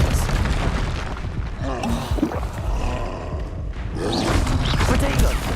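An Expelliarmus spell is cast in the video game Hogwarts Legacy, giving a few booming, crackling blasts against a busy game soundscape, with a voice speaking in between.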